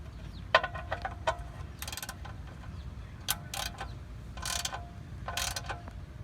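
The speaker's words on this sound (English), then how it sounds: "Now we tighten up the drain pan plug." Ratchet tightening the drain plug on an oil pan, heard as short bursts of clicking spread across several seconds, some single clicks and some quick rapid runs, close and fairly quiet with a low background hum.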